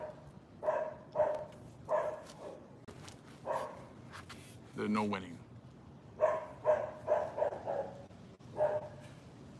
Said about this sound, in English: This dog is busy behind me, isn't he?